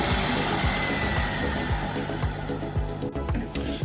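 A Stairville HZ-1500 hazer runs steadily nearby, its fan and pump giving a continuous broadband whoosh with a low mechanical hum. A few faint clicks and pulses break the steady noise.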